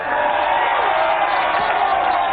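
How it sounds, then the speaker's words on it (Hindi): A crowd cheers and applauds steadily, a dense wash of claps and shouts that stays loud and unbroken throughout. "जरा देखो, तालियां हो जाए."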